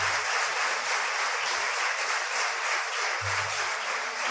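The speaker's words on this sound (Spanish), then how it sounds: "Dale un aplauso al Señor" A church congregation applauds, a thick, continuous wash of clapping held at a steady level throughout with a faint low hum in places and no talk.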